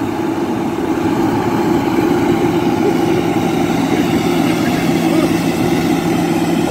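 A Case 620 articulated tractor, its engine only 110 hours old and still breaking in, approaches in a field. It gives a loud, steady, low diesel drone, with a faint voice now and then beneath it.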